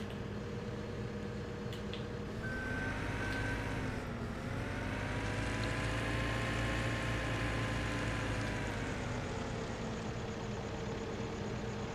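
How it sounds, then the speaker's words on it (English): An old JCB skid steer fitted with a stump grinder in Farming Simulator 17 drones steadily at idle, its engine tone dipping and rising once as the load changes, continuous and fairly close with no talking. "Grab the stump grinder here. Old JCB skid steer works great for this."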